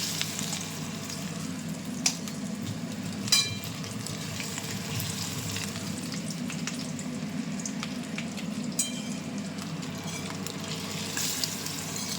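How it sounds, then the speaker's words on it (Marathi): Fish pieces hit hot oil in a pan and fry with a steady, loud, close sizzle throughout, marked by a few light clicks and taps and no talking. "आता मी तेल गरम झालंय, त्यामध्ये पीस सोडते."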